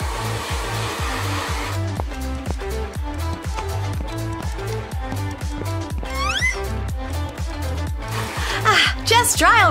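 Hair dryer blowing on long hair, a steady loud whir with rhythmic pulsing as it is moved, while voices talk over it and a short squeal near the end.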